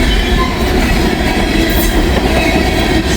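A freight train with a string of reefer cars rolls past close by, a loud, steady rumble of wheels and rattling cars with faint squeal.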